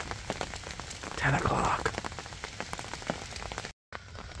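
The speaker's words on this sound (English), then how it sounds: "Still raining." Rain falls on a see-through hunting blind in a dense, steady patter of drops close overhead, while a voice speaks briefly under it.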